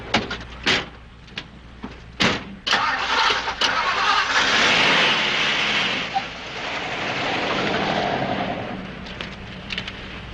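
Car on a highway: doors thud, then the engine cranks and starts, and the car revs up and drives off. The engine sound swells loudly and then slowly fades.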